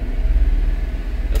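A 1994 Daihatsu Hijet Climber engine running with the air conditioning on, a close, steady low rumble with a slight pulsing throb and no talking.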